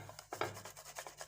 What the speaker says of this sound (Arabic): وغادي ناخذوا هاد الفص ديال الثوم غادي نحكوه فيها